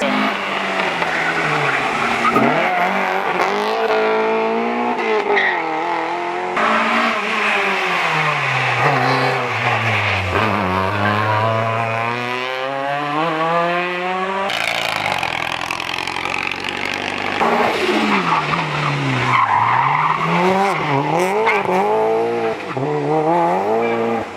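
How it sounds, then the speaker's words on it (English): Rally cars drift one after another around a tight corner at the Leadfoot Festival hillclimb, their engines loud and close, revving hard and dropping in long rising and falling sweeps without pause. "drifting in front of me there. Three of them around here. On this corner, they know within inches they are where to stop."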